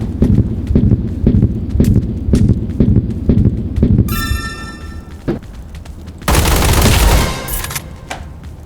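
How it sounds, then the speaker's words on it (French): Machine gun fire comes from above in a Roblox combat arena: rapid rhythmic bursts of loud shots, then a short, dense, sustained volley and fading echoes. "Ils sont en train de me mitrailler d'en haut, wesh."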